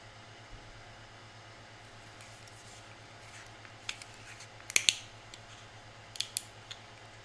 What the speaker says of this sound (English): You need to have your scissors close by when you open a Fab Fit Fun box.